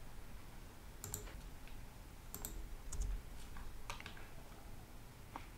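A computer mouse clicks several times, faint and sharp, over a steady low room hum during work in 3D design software.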